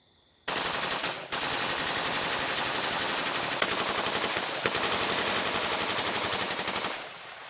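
Two Steyr AUG A3 rifles firing together in sustained fully automatic bursts, a loud, dense rattle of rapid shots with two brief gaps, ending abruptly.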